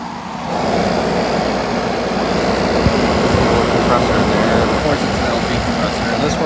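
The compressor of a 2001 Kenmore (WCI) 8,000 BTU room air conditioner runs close by. It makes a continuous, loud droning hum with a low rumbling drone and steady fan-like wash that holds even throughout.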